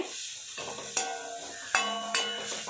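Chicken fries in a pan over a medium gas flame with a steady sizzle, broken by a few sharp metallic clanks of a utensil against the pan.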